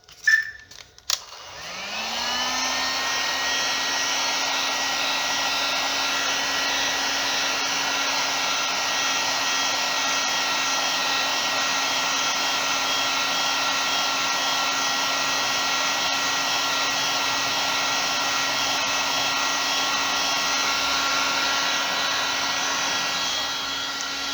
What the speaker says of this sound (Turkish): Siz isterseniz yine saç kurut makinesini kullanabilirsiniz.